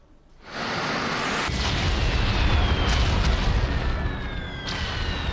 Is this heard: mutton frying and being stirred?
no